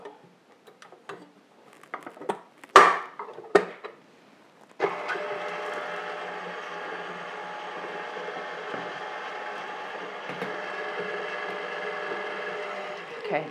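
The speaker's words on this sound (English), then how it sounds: "we're going to start creaming this on the mixer" An electric mixer creams butter with homemade vanilla for cookies, starting after a few scattered clicks and clatters, then running as a steady, even whine for the rest of the time.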